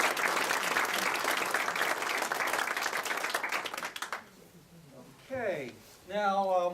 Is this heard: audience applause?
yes